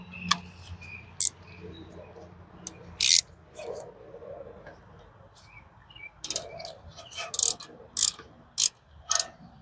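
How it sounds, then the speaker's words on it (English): A 17mm wrench ratchets on a brake bolt of a Ford Explorer XLT during a rear brake and rotor job, giving sharp, brief clicking bursts scattered irregularly over low workshop background, with no talk. "Might need that 17mm wrench."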